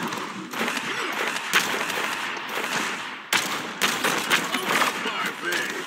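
Gunfire from Androxus in the video game Paladins during a 1v1 match: dense bursts of rapid shots and impacts packed closely together, with a brief drop around the middle before the firing resumes.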